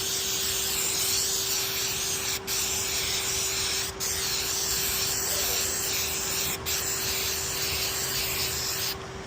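Rubberized coating sprayed onto a shingle roof, a steady loud hissing spray running continuously with a few very brief breaks and a constant mechanical hum underneath.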